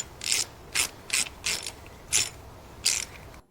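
Ratchet wrench with an 11 millimeter socket tightening bolts on a Club Car golf cart lift kit: six or seven quick bursts of clicking, close and loud, with short pauses between.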